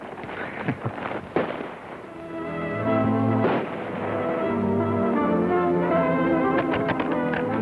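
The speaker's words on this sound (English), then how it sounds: "it sounds like those shots are mighty close to the stage road" Gunshots ring out in a 1941 western film: a few sharp cracks come early, then a steady orchestral score takes over and carries to the end.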